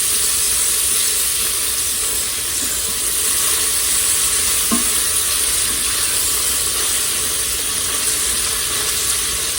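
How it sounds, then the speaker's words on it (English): Onions sauté in a pressure cooker for spaghetti carbonara, making a steady, loud broadband sizzle and hiss that continues without a break, with a faint clink near the middle and no talking. "Won't take long for those onions to saute off and get translucent."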